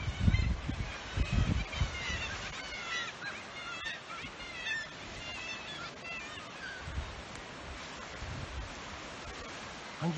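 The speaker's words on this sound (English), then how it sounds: "See down the birds on the little cliffs here as well" Seabirds calling from the cliffs of Great Saltee Island off Wexford, Ireland: a busy colony chorus of repeated honking and squawking cries, moderately distant, over steady wind and surf rumble with occasional thumps.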